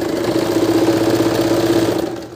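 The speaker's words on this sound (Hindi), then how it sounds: "इसके ऊपर अब हम सिलाई करेंगे।" A sewing machine stitches stretched elastic onto plain fabric for a plazo waistband, a steady close mechanical whir running without pause for about two seconds before easing off.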